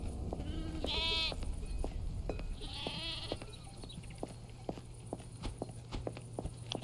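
Sheep bleating in a video game, two distinct wavering bleats close together near the start, followed by a steady run of light clicking footsteps.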